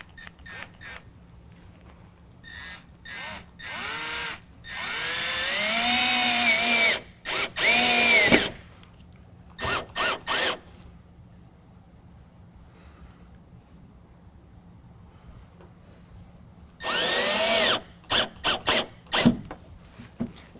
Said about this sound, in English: we're going to drill through the canister into the canister bracket to attach the two